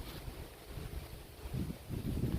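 Low, steady dry wind rumbling into the microphone, gusting a little stronger toward the end; no voices.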